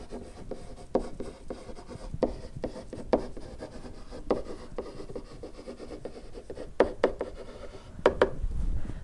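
A marker moves across a board, giving close, dry scratchy strokes in short irregular bursts with brief pauses between words, and no talking over it.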